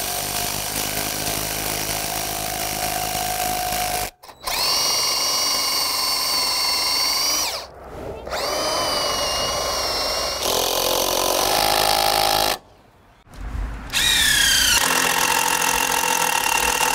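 A power drill drives a bolt into pergola wood in bursts, loud and close, its motor whine rising and falling through three long runs separated by brief pauses.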